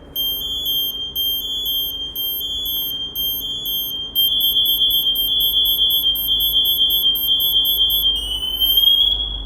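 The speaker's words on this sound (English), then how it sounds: "Now we're going to wait for your pass to go into full activation. This will produce an ascending tone." MSA G1 SCBA PASS device in full alarm, a loud electronic beeping that steps up into a rising, continuous ascending tone, piercing and close with no talk.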